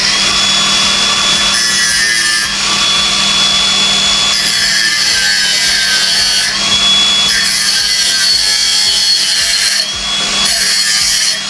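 A power grinder works steadily on a workpiece for the full length, a loud continuous abrasive whine that briefly dips a few times without stopping, with no talking.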